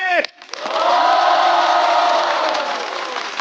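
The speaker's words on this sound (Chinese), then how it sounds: "来，让我们再一次掌声欢迎所有嘉宾。" Studio audience on a talk show greets the guests, a harsh brief vocal start giving way to a sustained wash of crowd cheering and clapping that stays loud and steady before easing slightly at the end.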